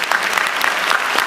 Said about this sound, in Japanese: 皆さん、もう一度自分にも大きな拍手をしましょう。